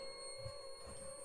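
A telephone ringing sound effect in an Indonesian horror podcast story, heard as a steady electronic ring tone held at low volume with no talking over it.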